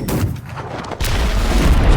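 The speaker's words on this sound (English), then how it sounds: "It's a quick little explosion, just a punch, and it has pretty decent AoE." A punch attack called Fist of Love in the Roblox-style game AOPG sets off a quick explosion, a loud booming burst that swells suddenly and rumbles on with heavy low-end impact.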